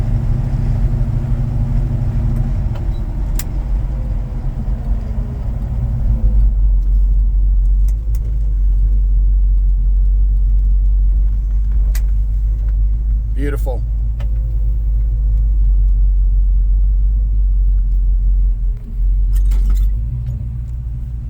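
A 1972 Chevrolet C10 Big Window pickup engine rumbles steadily and loudly at close range while driving, with a deep low drone throughout, brief voices and faint jangling over it.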